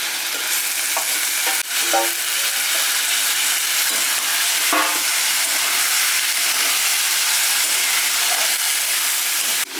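Clam meat sizzles and crackles steadily in hot oil, with a few light clinks of a spoon against the pan.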